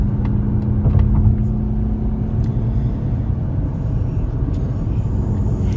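A 2024 Mazda CX-50 accelerating on a freeway, heard from inside as a loud, steady low engine and road rumble with no talking.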